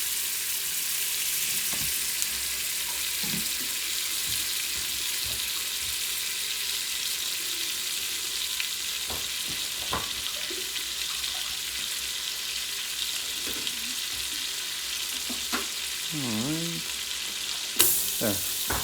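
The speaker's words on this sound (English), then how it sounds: "More butter. So we're going to melt that down" Butter melting and sizzling in a soup pot, the start of a broccoli cheddar soup: a steady, close frying hiss runs throughout, with occasional light clinks and stirring sounds over it.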